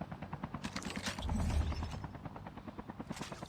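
Helicopter in the battle royale game Call of Duty Mobile during an esports match, a faint steady rotor chop that swells briefly in the middle, with scattered distant gunfire mixed in.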